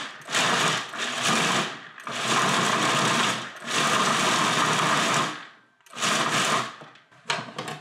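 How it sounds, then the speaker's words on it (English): A blender pulses dates with nuts such as cashews or peanuts into a sticky mix, loud whirring bursts of a second or more, separated by short pauses, with no talk. "We throw them in the blender and we just pulse it until it's the sticky consistency"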